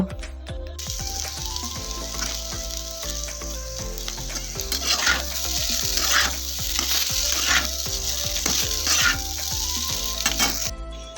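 Boiled chowmein noodles fry with egg, potato, onion and capsicum in a hot pan, giving a steady loud sizzle broken by repeated scraping and clinking of a spatula as the mix is stirred.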